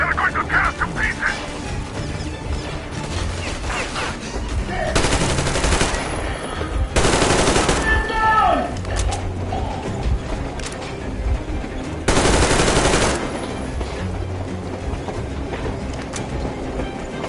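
Bursts of automatic gunfire from the Metro Exodus game, three loud broadband volleys of a second or so each, separated by quieter stretches of game ambience and distant clatter.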